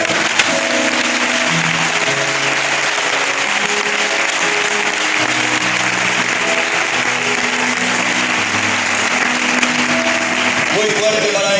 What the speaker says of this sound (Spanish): Fuertísimo este aplauso para él.